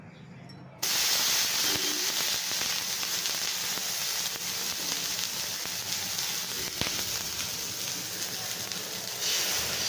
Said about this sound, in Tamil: கல்லில் நல்லா தண்ணியை தெளிச்சிட்டு மாவை தெளித்து ஊற்றணும்